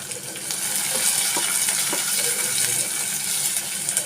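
Chopped onion and green chillies frying in a hot pan, a steady close-up sizzle with crackles and occasional stirring scrapes.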